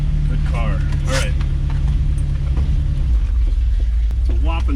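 A 1964 Chevy Impala station wagon with a 327 V8 idles with a steady, deep, close rumble throughout, while brief whining, voice-like sounds rise over it now and then.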